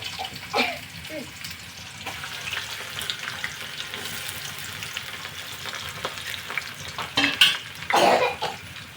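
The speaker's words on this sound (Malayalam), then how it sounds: "ഒന്ന് മൂത്ത് കഴിയുമ്പോൾ ഉപ്പേരിക്ക് വറുക്കുന്ന പോലെ വറുത്തെടുക്കണം" Chopped ginger fries in hot oil for a ginger curry, a soft steady sizzle broken by scraping stirs and a few louder clattering bursts near the end.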